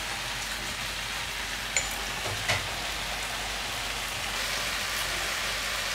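Crab sautéing in a pan with onion, tomato and ginger garlic paste, a steady even sizzle like light rain, with two faint clinks of a utensil early on.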